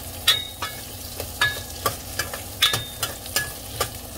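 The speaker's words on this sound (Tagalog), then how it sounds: "Sulin natin ang garlic." Garlic cooking in a pan for salmon soup, sizzling steadily under a series of sharp scraping stirs and clinks of a utensil against the pan, repeated roughly every half second, close and clear with no talking.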